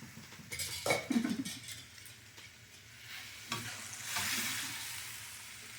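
A spoon stirs vegan mapo tofu with broccoli and mushrooms in a hot pan, with soft scraping and shifting under a steady low sizzle that swells toward the end, close and fairly quiet, no talking.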